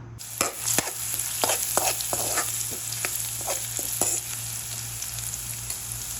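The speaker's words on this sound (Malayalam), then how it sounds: "ഇനി ഇതിലേക്ക് ചതച്ച് വെച്ച് വെളുത്തുള്ളി ഒന്ന് ഇട്ട് കൊടുക്കാം." Crushed garlic drops into hot coconut oil for bitter gourd chukka, setting off a steady close sizzle punctuated by sharp spatula clicks and stirring knocks that thin out toward the end.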